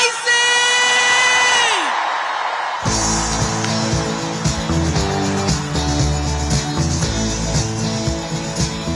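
A large rally crowd erupts in loud cheering and whooping as Senator Bob Casey is welcomed at a Kamala Harris campaign rally, the roar sustained over upbeat walk-on music that kicks in partway through.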